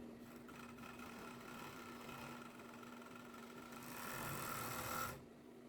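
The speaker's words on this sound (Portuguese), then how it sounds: "você pode overlocar com ela aberta ou depois em anel" An overlock sewing machine runs steadily while stitching a T-shirt sleeve, a continuous close mechanical whirr that grows louder near the end before stopping abruptly.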